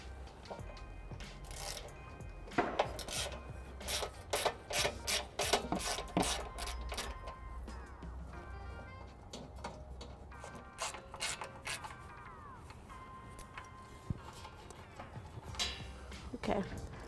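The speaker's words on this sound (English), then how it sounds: "I'll be using a socket wrench with an 8mm to remove the 3 bolts on each side." Socket wrench with an 8mm socket backing out frame bolts on a 2008 Ford Edge, repeated bursts of sharp ratcheting clicks up close, with a voice talking at times.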